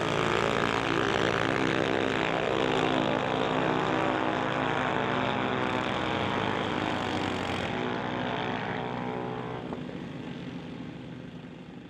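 Drag racing cars roaring down the track at a Smoke, Fire and Thunder event, a loud sustained engine howl with layered harmonic tones that fades away toward the end.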